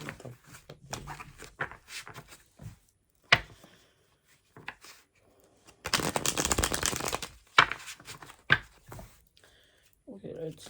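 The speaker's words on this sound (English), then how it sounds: "let's do a little bit of shuffling" A deck of playing cards is shuffled in one steady burst lasting about a second and a half, close and fairly loud, set among scattered handling taps and clicks with a voice speaking briefly before it.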